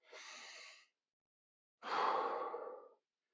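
Two heavy, breathy exhales come close and clear after a hard workout, a softer one first and then a louder, longer sigh after a pause, with silence around them.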